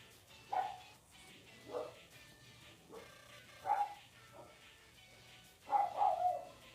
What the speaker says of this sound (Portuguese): Tem tempo de chuva, os cachorros não quietos.